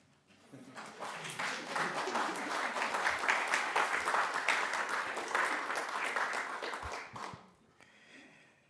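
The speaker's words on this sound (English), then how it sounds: "You can clap if you want." Congregation at a Unitarian Universalist worship service breaks into applause, a dense wash of clapping that swells, holds for several seconds, then tapers off.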